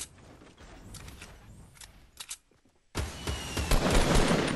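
Rapid gunfire in Fortnite: scattered shots and clicks early, a short lull, then a loud dense burst of fast continuous firing that fills the last second and a half.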